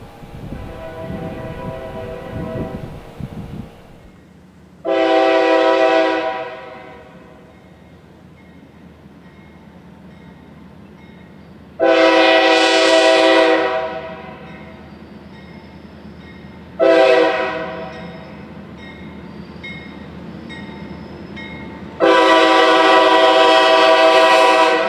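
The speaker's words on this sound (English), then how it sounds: "another unit with a great horn in the form of an absolutely monstrous K5H" A GE Dash 8 locomotive passes, repeatedly sounding its loud K5H five-chime horn in long blasts of differing lengths, with a steady engine drone and rail rumble between the blasts.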